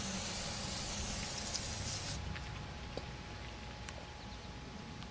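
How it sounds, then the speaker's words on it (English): Brake cleaner sprays in a loud, steady hiss onto Ford Taurus front brakes to clear debris, then cuts off, leaving a quieter rushing hiss with a few small knocks. "Clean the debris with brake cleaner."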